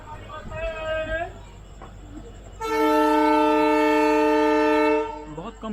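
An Uttaranchal Sampark Kranti Express train pulls out of Lal Kuan station at night, sounding a long, loud horn blast for about two seconds amid faint background rumble and talk.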